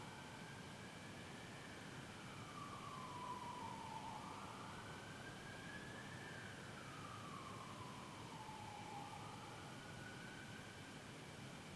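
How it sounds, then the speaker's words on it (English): An ambulance siren wails far off, its rising and falling tone sweeping slowly over steady cricket chirping at night, faint and continuous with no talk. "And an ambulance coming."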